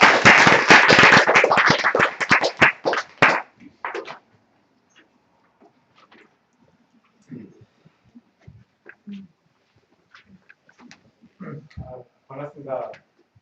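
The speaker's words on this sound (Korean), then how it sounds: "박수 부탁드리겠습니다." Audience applause at a village-building network meeting in Yangpyeong, Korea: dense clapping fills the first three and a half seconds, then fades out, leaving scattered faint sounds and brief murmurs.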